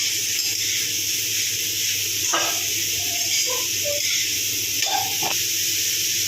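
Two bay leaves dropped into hot oil for a semolina papaya halwa, giving a steady bright frying sizzle throughout, with a few faint clinks and short background voices.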